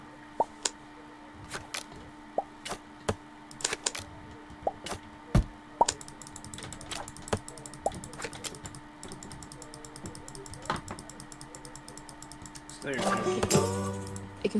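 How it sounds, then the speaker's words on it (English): Rapid, sharp clicks from a microphone being clicked over and over, scattered in irregular bursts at close range, with a denser clatter near the end. "I can hear Aiden intensely clicking his mic"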